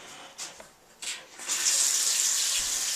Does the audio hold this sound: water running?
yes